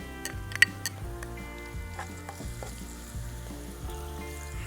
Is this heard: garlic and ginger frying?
yes